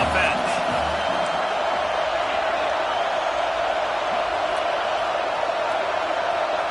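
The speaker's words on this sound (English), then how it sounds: "This crowd trying to make life miserable for this offense." A packed stadium crowd at a college football game roars in a loud, continuous wash of noise, sustained and unbroken, with a commentator's voice faintly under it.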